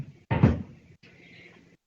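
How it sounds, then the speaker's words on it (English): A chair being moved indoors during a live home workout session: a sharp scraping knock followed by a softer dragging rub, close and brief, with no talk. "I'm going to move this chair."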